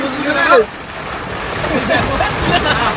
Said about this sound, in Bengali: ঝড় হচ্ছে ঝড়